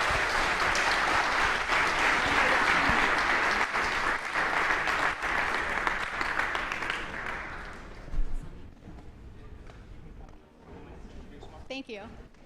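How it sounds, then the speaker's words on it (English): An audience at the Kaplan Pitch Tank 2022 gives a loud round of applause for the Pill Skills pitch, sustained for several seconds before fading out, with a few voices near the end. "One more round of applause for Pill Skills."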